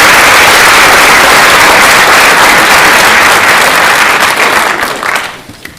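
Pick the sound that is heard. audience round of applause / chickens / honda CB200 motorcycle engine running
audience round of applause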